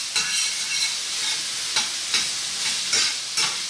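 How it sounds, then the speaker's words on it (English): Onions and beef fry loudly in a pan, a constant bright sizzle broken by regular scrapes and stirs of a utensil, close up with no talking. "we're going to get the caramelisation from the onions going into the meat"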